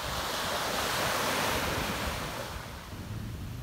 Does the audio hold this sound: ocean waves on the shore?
yes